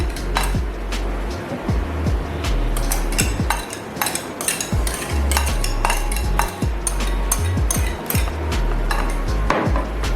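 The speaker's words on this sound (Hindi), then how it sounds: "अच्छी तरह मिक्स कर देंगे।" A spoon stirs a thick Russian salad mixture in a bowl, making repeated close clinks, taps and scrapes in an uneven rhythm.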